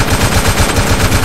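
Rapid automatic gunfire from a role-play video game, a dense continuous burst of shots with a steady pulsing rhythm, loud and close, no talking over it.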